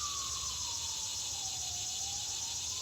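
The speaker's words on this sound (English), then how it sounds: "Sirens are going this morning." An emergency vehicle siren wails outdoors in the morning, its steady tone slowly sliding down in pitch, set against a constant high buzz of katydids and insects.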